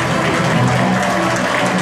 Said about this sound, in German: Dankeschön, das ist der Applaus für Christian Walter.